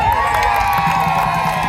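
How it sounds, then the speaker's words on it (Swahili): Crowd cheering and shouting at Jamhuri stadium in Morogoro after a Tanzania win, a steady roar of many voices with whoops rising over it, no single voice standing apart. "Wanashangilia pale,"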